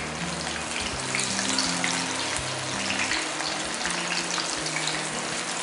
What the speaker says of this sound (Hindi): तो इस तरह से हम कॉर्न फ्राई कर लेंगे मीडियम हीट पे।